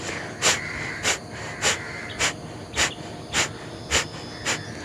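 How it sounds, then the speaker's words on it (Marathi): Sharp, forceful exhalations through the nose during Kapalbhati yoga breathing repeat in a steady rhythm, about eight quick puffs, close and clear with no talking. "आपण कपालभातीमध्ये जेव्हा फोर्सफुली एक्सपिरेशन करतो म्हणजे जोरात श्वास सोडतो"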